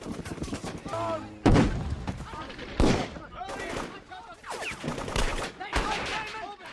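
Gunfire from a fight breaking out around a crematorium at Auschwitz, with rapid machine-gun bursts and heavy booming shots. The loud, dense volleys come in waves close by, and voices are mixed into the fighting.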